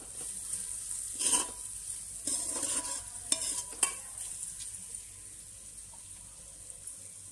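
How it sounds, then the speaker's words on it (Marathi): Finely chopped onion frying softly in oil, a low sizzle with a few bursts of spatula scraping and stirring, close and quiet, calming toward the end. "बारीक चिरलेला कांदा घालून घेते। कांदा पण चांगला मऊ शिजून घेऊ आपण।"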